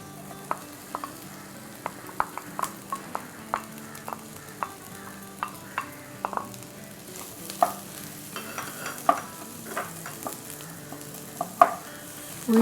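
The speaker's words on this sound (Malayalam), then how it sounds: "ജസ്റ്റ് ഉള്ളിയൊക്കെ ഒന്ന് വഴറ്റിയെടുക്കാനും മാത്രം." Onions cook in just a little oil in a pan, a quiet steady sizzle broken by a series of sharp spatula taps and scrapes as they're stirred.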